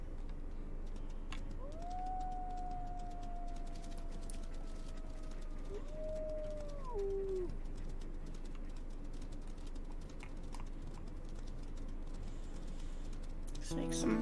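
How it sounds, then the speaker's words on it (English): A wolf in the WolfQuest video game lets out a long, drawn-out howl with a few sliding pitch changes, rising and falling over a steady wind-like outdoor game ambience. "Why would you howl in their territory?"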